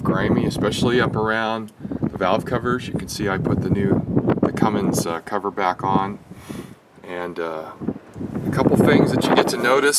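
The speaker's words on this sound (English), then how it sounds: "sorry about the wind" Gusty outdoor wind buffets a microphone next to a 1993 Dodge pickup with a Cummins engine, rumbling low and steady beneath someone talking throughout.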